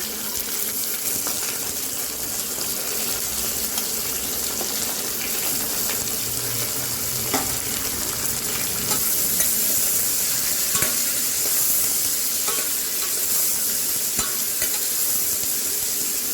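Onions cut into long strips sauté in a pan for Saidapet-style Tamil Nadu vada curry, a steady, fairly loud sizzle and hiss of frying that runs throughout with faint stirring scrapes and no talk.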